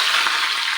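Dried red chillies and curry leaves hit hot oil for a Kerala fish curry tempering, giving a brief, steady, close hiss of sizzling with no voices.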